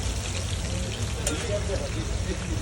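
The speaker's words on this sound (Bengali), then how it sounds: "ঐতিহ্যবাহী আপনাদের সুন্দর করে ভেজে দিচ্ছি মাছ।" Large Padma hilsa fish frying in mustard oil at a riverside ghat stall, a loud dense steady sizzle close by, with people chatting nearby underneath.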